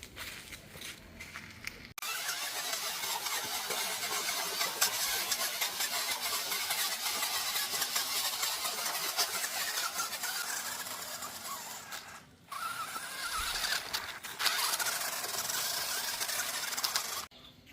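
A 4WD remote control car's electric motor running off-road, a steady high whirring that starts abruptly, holds for a long stretch, cuts out briefly, then resumes. No voices.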